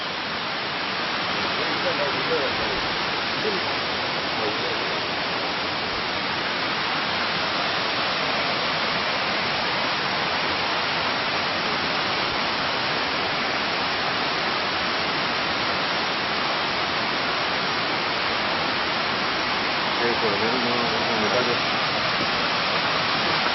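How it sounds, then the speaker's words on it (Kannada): Hidlumane Falls at Kodachadri pours in a steady, loud broadband roar of falling water, unbroken for the whole stretch, with faint voices now and then under the rush. "ಇಲ್ಲಿ ಫಾಲ್ಸ್ ನೋಡ್ರೋ ಅಪ್ಪ ಹೆಂಗ್ ಬೀಳ್ತಾ ಇದೆ"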